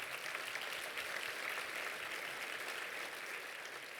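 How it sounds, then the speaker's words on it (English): Faint, steady applause from an audience honoring community members at a mayor's event, a soft continuous patter of clapping heard at a distance. "So please, a round of applause for all of them."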